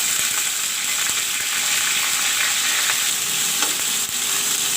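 Tomato and bhaji stock sizzle and fry steadily in a pan, a dense continuous hiss close up with faint stirring clicks throughout and no voices.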